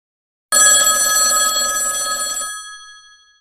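A telephone bell rings for an incoming call: one loud, bright ringing burst of about two seconds that cuts off and leaves a short fading tail, with no voices.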